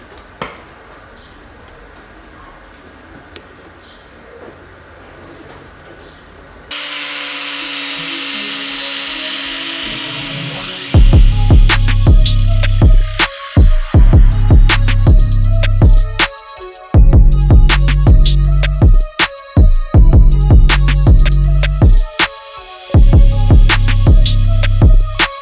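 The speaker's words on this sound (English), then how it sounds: "then I'm going to use a grinder to grind it off" An angle grinder grinds off a body lip on a Volkswagen Mk1 Citi Golf, its loud high whine cutting in and out in repeated bursts, close and harsh, after quieter shop sounds.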